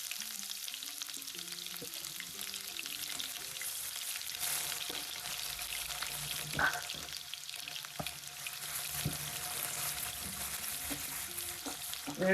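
Onions frying in hot oil, a faint, steady sizzle in the background, with soft intermittent knocks and scrapes and a low tonal hum, no one speaking.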